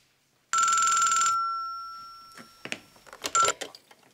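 Telephone in a fashion boutique rings with a loud electronic trill that holds briefly and fades, followed by scattered clicks, clatter and a second short ring burst.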